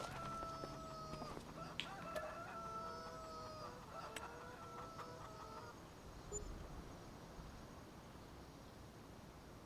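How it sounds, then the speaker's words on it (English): Chickens in the Farming Simulator 25 game cluck and cackle excitedly with overlapping calls for several seconds, then fade out, leaving a faint hissing background. "Now they're still going crazy."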